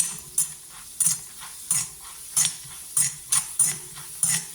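Chana dal frying in hot oil in a pan, with a faint steady sizzle and a utensil stirring and scraping in regular sharp strokes about every half second, close and alone.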